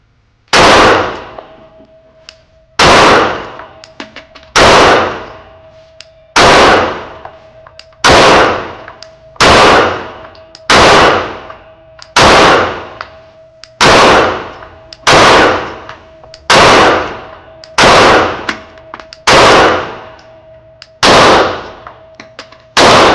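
Shadow Systems CR920XP pistol fired at targets from 7 yards, a steady series of about fourteen sharp, loud shots spaced roughly every one and a half seconds, each with a ringing metallic tail.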